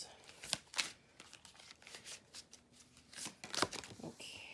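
Tarot cards being shuffled in repeated bursts of crisp riffling and sliding, close and fairly quiet, with soft rustles in between and no talking.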